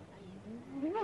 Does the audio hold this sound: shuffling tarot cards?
no